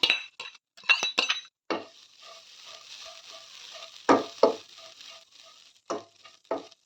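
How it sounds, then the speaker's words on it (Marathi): Grated coconut dry-roasting in a pan with peanuts for Vidarbha-style sambhar vadi, giving a soft steady sizzle broken by clinks and scrapes of a stirring spoon against the metal, with a few louder bursts of stirring. "यात टाकूया आपण खोबरा किस. याला पण आपण भाजून घेऊया."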